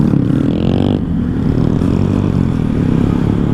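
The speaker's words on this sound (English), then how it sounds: "is that a Grom right here coming at us?" A Honda Grom motorcycle approaches with a steady, loud engine drone and rising revs, heard close and continuous for a few seconds without talk.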